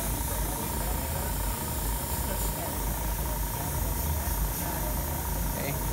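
A Sparmax DH-125 airbrush spraying gives a steady, close, even hiss of air and paint that runs without a break for several seconds, with a faint low hum beneath it.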